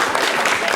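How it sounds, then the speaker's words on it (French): Brief, loud clapping from a studio audience as a young woman is called up to the microphone, a dense crackle of many hands with no voices over it. "On peut l'applaudir très fort."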